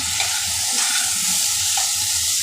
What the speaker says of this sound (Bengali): তো আমি এখন এগুলোকে আর একটু ভাজা ভাজা করে নেব।